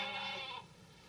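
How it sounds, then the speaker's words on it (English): A goat bleats while it is being milked in an animated scene, a single drawn-out cry that is loud at first and then trails off into quieter background after about half a second. "The man is getting milk from the goat, that's all."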